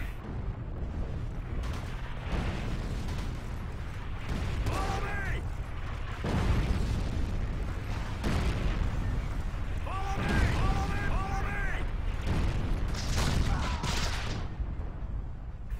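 Forgotten Hope 2 battle at Pointe du Hoc with repeated heavy bursts of gunfire and booming artillery, some near, some distant, under steady background rumble, while someone talks over the action.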